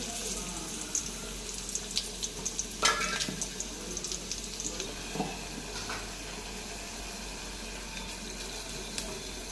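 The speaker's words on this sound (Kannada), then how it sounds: "ಟೊಮೆಟೊ ಸಾಂಬಾರು ಒಗ್ಗರಣೆ ಹಾಕಿ ನೋಡ್ರಿ" Mustard-seed and cumin tempering for tomato sambar sizzles softly in a pan, a steady faint crackle and hiss with occasional pops and clinks of utensils.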